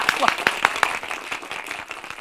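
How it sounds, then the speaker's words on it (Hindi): A small group claps at a family gathering in a comedy episode, with sharp hand claps at a quick, uneven rhythm close by and a voice speaking over the start. "क्या बात है, तालियां भाई, तालियां।"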